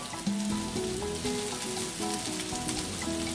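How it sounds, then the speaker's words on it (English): Coconut milk goes into a pan of sizzling spices, turmeric, mixed spice, curry leaves and kasuri methi for a South Indian salmon and prawn curry. A steady frying hiss runs under prominent tonal music throughout. "In that I'm going to add some coconut milk."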